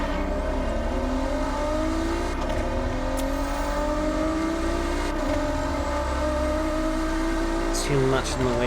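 Car engine revving in the racing video game Forza Horizon 6, a sustained high engine drone with rising and falling pitch as it over-revs and spins wheels, loud and continuous with a voice talking over it.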